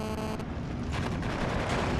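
Gunfire and heavy explosions rumble through a WWII tank battle in the strategy game Steel Division 2, with an Su-152 involved. The sound is a dense, continuous low roar of distant fire, with no clear individual shots and no voices.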